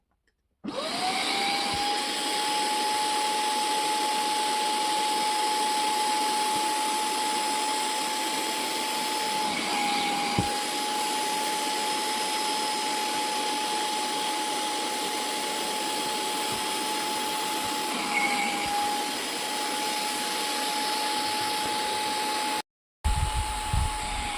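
A Kiwi KCC4317 upholstery and carpet washing machine draws water out of a sofa with a loud, steady suction whine that holds nearly unbroken for about twenty seconds, then cuts off abruptly near the end.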